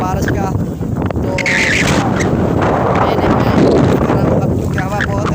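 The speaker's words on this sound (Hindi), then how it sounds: "तो बहुत ही तेज हवा है" Strong, steady wind buffets a microphone outdoors in a village near open water as rain begins, a continuous loud rushing roar with gusty swells and brief flutters, while a voice speaks intermittently underneath.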